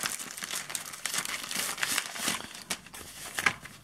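A small parcel's plastic packaging being cut open with new scissors, giving close, continuous crinkling and crackling with scattered snips and tearing bursts, no talk.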